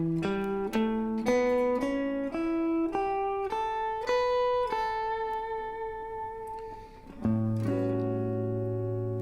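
A clean, synth-like instrument plays an ascending dominant pentatonic scale of distinct single notes, steady in rhythm, then holds a long tone before a lower note enters.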